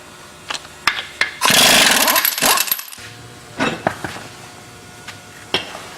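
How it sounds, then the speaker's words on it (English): A power tool, likely an impact wrench, rattles loudly in one burst of about a second and a half while a wheel comes off a truck, followed by scattered metallic clanks and clicks nearby. "So I'm going to go ahead and pull the wheel off."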